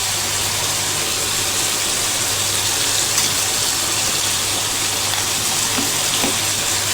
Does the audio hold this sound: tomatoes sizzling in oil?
yes